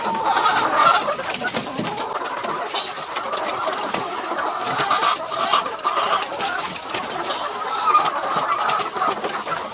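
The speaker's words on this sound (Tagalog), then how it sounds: "Siya po yung magpapakain ng manok." White Dekalb laying hens cluck and chatter steadily in a flock at afternoon feeding time, a busy continuous mix of close and distant calls with no talking.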